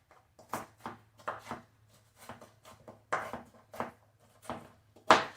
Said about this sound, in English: So I'm going to chop up all of this onion